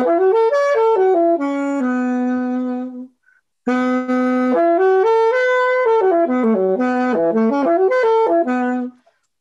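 Solo saxophone plays a sustained chord-outline phrase with the F voiced beneath the G, loud and close, with a brief pause near the middle before a longer run of stepping notes continues alone.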